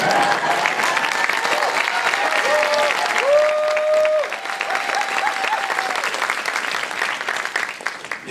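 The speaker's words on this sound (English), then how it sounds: "I hope your hands don't hurt from clapping" A concert audience applauds warmly for several seconds, dense clapping with a few cheers and whistles mixed in before it begins to thin out.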